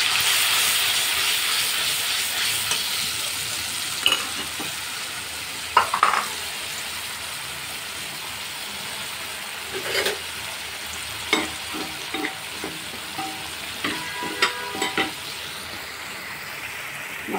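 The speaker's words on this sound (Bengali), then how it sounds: "মশলাটা কষাই নিব।" A spice paste of turmeric, salt, chili and coriander fries in oil in a kadai, giving a soft continuous sizzle and hiss with scattered spatula scrapes and taps.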